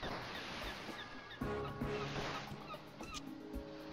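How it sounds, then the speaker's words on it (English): Seagull calls in the video game Super Trench Attack, a series of short honking squawks repeating over steady game ambience, with a few tonal game effects and a sharp hit partway through. "Can I shoot the seagull?"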